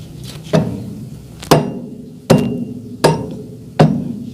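A hammer strikes the back of a rice mill polisher shaft to drive out its bearing, five sharp, loud metallic blows at uneven intervals, each ringing briefly, close by with no talk.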